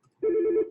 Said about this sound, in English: set up my phone so it didn't ring.